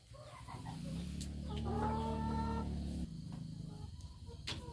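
Hens in a laying-hen house cluck and murmur throughout, with a few brighter calls standing out near the middle, close by and fairly quiet, no speech over them.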